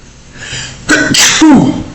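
A single loud, close sneeze with a sharp gasping intake followed by an explosive burst, heard alone.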